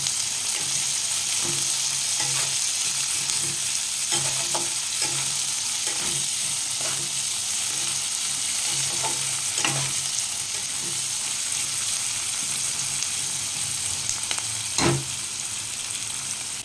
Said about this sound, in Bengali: পেঁয়াজটা ভাজার সময় 1/2 চামচ লবণ দিচ্ছি, যাতে পেঁয়াজটা তাড়াতাড়ি নরম হয়ে যায়।